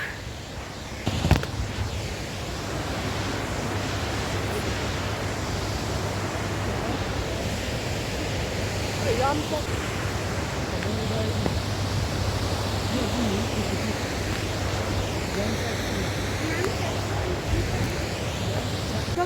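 A river flowing steadily, a loud continuous broadband rush like water or wind noise filling the whole stretch, outdoors on a cold day.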